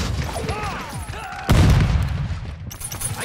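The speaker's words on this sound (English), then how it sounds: "I'm taking effective fire!" Shotgun gunfire in Call of Duty Modern Warfare II: a voice speaks, then one loud, close blast erupts midway and rumbles for about a second, with lighter bursts of game noise after.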